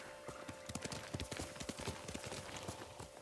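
A horse's hooves clip-clop in quick, irregular beats in the video game Ghost of Tsushima, close and fairly quiet, with a faint steady tone running underneath.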